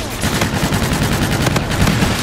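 Sustained loud automatic gunfire from a Call of Duty Infinite Warfare multiplayer weapon, a dense unbroken stream of rapid shots close up with no talk over it.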